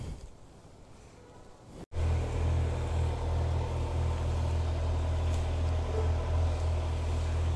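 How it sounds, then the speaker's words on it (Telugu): A Kawasaki Z900 motorcycle cold-starts: after a quiet stretch, the engine catches abruptly and settles into a loud, steady low idle rumble that continues close by, with no talking. "సో మన బండి అయితే స్టార్ట్ చేద్దాం. కోల్డ్ స్టార్ట్ చేద్దాం."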